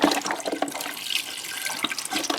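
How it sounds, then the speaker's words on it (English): Water pours in a steady, fairly loud stream into a stew pot of meatloaf meatballs, potatoes and beef stock, with a brief splashy onset and no talk. "I actually planned on adding a little water anyway."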